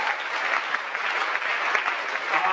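A church congregation at a Sunday worship service applauds, a steady, full wash of many hands clapping continuously throughout, fairly close and unbroken, with no clear voices over it.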